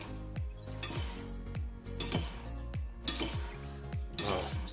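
Pasta salad with chunks of mozzarella being stirred in a bowl, giving a steady run of soft clinks and scraping knocks from utensils against the dish, close and moderately loud with no talking.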